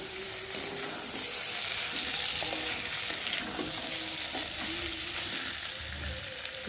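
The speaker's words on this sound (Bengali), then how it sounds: "আর এখন আমি মশলাগুলো দেবো মশলা বলতে আদা আর জিরে বাটা দেবো একটু করে ভালো করে নাড়িয়ে চাড়িয়ে নেব" A ginger and cumin paste being stirred in a hot pan, a moderate, continuous sizzle with soft scraping and occasional light knocks from the stirring utensil; no speech.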